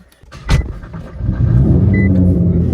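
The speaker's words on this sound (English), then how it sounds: "So we're back in the car." Inside a moving car, a low engine and road rumble builds and then holds steady and fairly loud, after a brief knock near the start.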